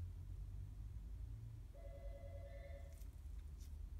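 An outgoing phone call rings through Apple CarPlay on a Kenwood DMX-7018BTS car head unit: a steady electronic ringback tone starts partway in over a constant low engine and road rumble inside the car.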